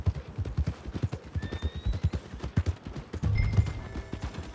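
Horse hooves clip-clop in a steady rhythmic trot within the Red Dead Redemption 2 game world, fairly close, with a brief burst of heavier noise near the end.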